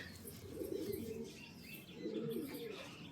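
Pet pigeons cooing softly nearby, two low, drawn-out rolling coos with a short pause between them, fairly quiet against faint background hiss.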